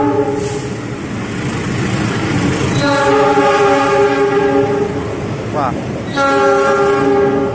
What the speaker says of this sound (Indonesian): Kereta api melintas langsung.